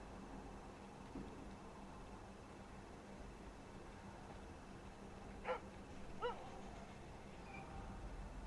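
A dog in the video game Far Cry 5 gives two short, faint barks about a second apart, half buried in a steady bed of background noise.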